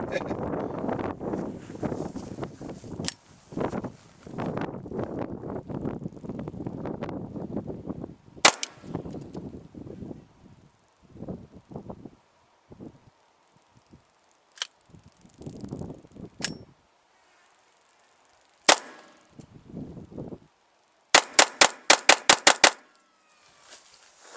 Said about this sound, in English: I'm going to try and do some regular rapid fire this time, as fast as my ass can shoot rapid fire.